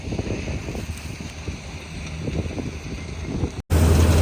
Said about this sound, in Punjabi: ਦੇਖੋ ਹਵਾ ਦੇਖੋ